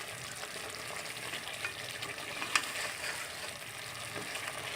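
Boiled meat pieces hit a pan of frying gobhi gosht, crackling and sizzling quietly and steadily in oil with occasional stirring scrapes and a small clink.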